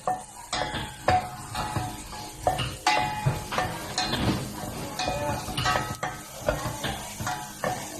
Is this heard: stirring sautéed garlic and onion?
yes